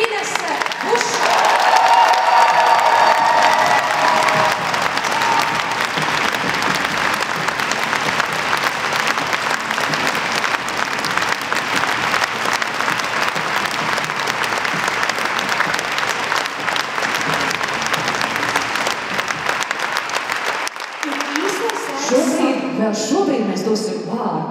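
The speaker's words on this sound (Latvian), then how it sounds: "Sagaidām ar aplausiem Inese Buša!" Large audience applauding to welcome a dance ensemble leader at a folk dance group's anniversary concert in Saldus, loud sustained clapping lasting about twenty seconds before fading, with a voice briefly over it near the end.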